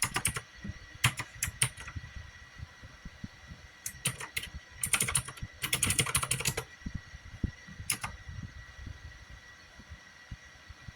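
Automated bot typing on a computer keyboard at extreme speed, dense rapid bursts of key clatter separated by brief pauses, close and steady with no voices.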